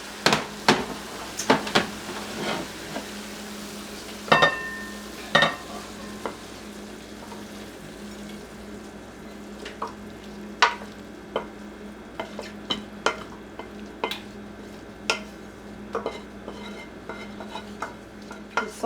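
Hamburger meat browning in a frying pan, a soft continuous sizzle broken by repeated sharp clinks and scrapes of the utensil against the pan, close and without talk.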